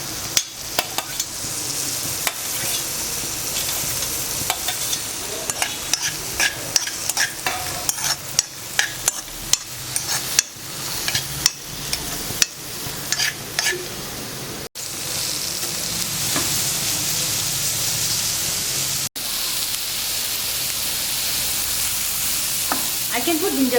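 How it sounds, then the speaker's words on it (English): Onions sizzle and fry steadily in a little oil in a pan for a jackfruit vegetable dish, with frequent sharp clicks and scrapes of stirring over a continuous close frying hiss. "Enough for just frying the onions."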